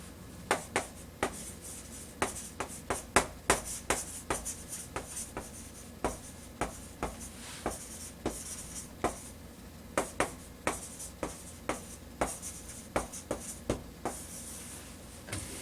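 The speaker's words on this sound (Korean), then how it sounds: "문장을 하나 더 써볼게요." An English sentence is written by hand with a pen on paper. Irregular, close, crisp scratching strokes and taps sound steadily throughout, with no talking.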